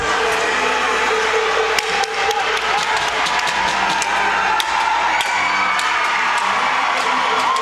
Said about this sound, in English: he gets the crowd pumped up with that one